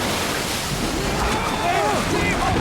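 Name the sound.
strong wind and waves at sea around a rowing boat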